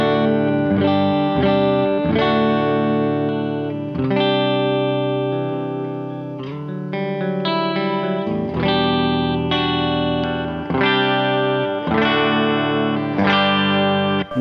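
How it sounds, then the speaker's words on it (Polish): Electric guitar from Arrow Guitars played through a warm, thick humbucker pickup, strummed chords ringing with effects and slight distortion, sustained and full, close and fairly loud with no talking. "No tutaj już słychać to, no tego mięsistego, ciepłego humbuckera."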